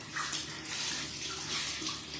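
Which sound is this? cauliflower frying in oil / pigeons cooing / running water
running water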